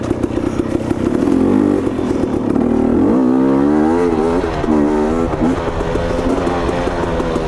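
A KTM 250 XC dirt bike engine rides a tight, leafy trail in low gear, its loud, close two-stroke note rising and falling steadily with throttle changes throughout.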